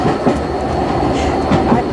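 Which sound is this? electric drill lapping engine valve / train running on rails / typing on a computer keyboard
train running on rails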